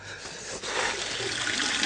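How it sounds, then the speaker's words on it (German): A household water tap is opened in a 1969 German radio play, letting out a steady, close rush of running water that starts after a brief soft onset and continues evenly to the end. "So, und jetzt den Wasserhahn wieder auf."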